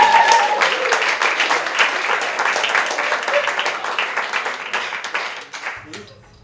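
Audience applause for performers at a live show, dense steady clapping filling the room with some voices mixed in, tapering off near the end into quiet.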